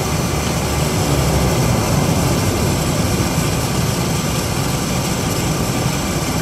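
A Beechcraft King Air's propellers move into the feathered position, a loud, steady roar of turboprop engines and spinning props heard up close, with no speech.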